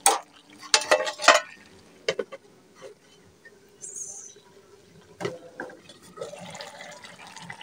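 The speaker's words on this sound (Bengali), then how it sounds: "পালং শাকগুলোকে দেওয়ার পর একটু নেড়েচেড়ে মিশিয়ে নিচ্ছি।" Spinach and mixed vegetables are stirred in a cooking pot for a vegetarian dish. A spoon scrapes and clatters in quick bursts, with wet, sloshing sounds and pauses between strokes.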